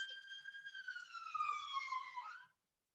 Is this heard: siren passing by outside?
yes